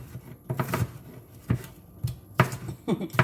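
A knife chops vegetables on a board in a home kitchen, giving irregular clusters of sharp knocks spread across a few seconds with quiet gaps and some faint handling noise.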